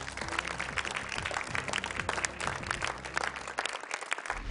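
Audience applause at a Qur'an recitation competition, a steady dense wash of clapping from a crowd that runs throughout, fairly faint and unbroken until a slight thinning at the end.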